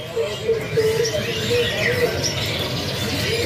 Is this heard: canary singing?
yes